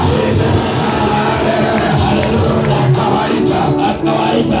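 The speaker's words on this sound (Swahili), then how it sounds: "Omba Bwana Yesu makofi ya baraka." A church congregation at a revival service claps and cheers together, a dense, steady wash of applause with shouts and whoops throughout, loud and close, with no talk standing out.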